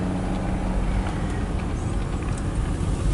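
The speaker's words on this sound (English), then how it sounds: "Sounds like a snowmobile." Steady engine drone heard outdoors in winter beside rail tracks, a continuous low rumble from a motor vehicle or snowmobile at moderate distance, unbroken and without talking.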